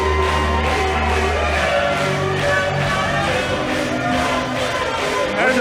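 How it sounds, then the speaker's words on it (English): Wrestling crowd roars in a dense, steady wall of cheering and shouting right after an upset victory, loud and continuous throughout with a commentator's voice mixed in. "The crowd is fired up."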